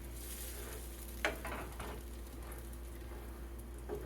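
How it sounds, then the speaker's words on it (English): Egg frying in a pan and being pushed toward the center as it cooks, a steady low sizzle with a few soft scraping strokes, fairly faint and close, no voices. "We're just going to go around and pull the egg into the center as it cooks."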